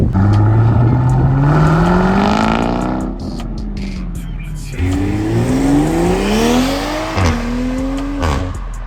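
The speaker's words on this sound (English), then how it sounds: "Here comes that Hellcat, I think." A Hellcat leaving a Cars and Coffee meet accelerates past nearby, its engine note climbing through several loud, rising revs with gear changes between pulls, while other cars rumble in the background.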